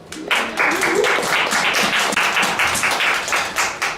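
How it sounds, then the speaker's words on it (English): An audience claps for conference panel members at an education event, a dense, steady wash of many hands that holds for about four seconds with no talking over it. "Let's give our round of applause to our panel members."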